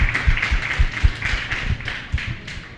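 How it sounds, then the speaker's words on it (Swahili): A forum audience claps for community food-rights activists, an uneven patter of individual hand claps, fairly close and moderately loud, with no voices. "Na basi tupige makofi kwa wanaharakati wote mahali ambapo wapo."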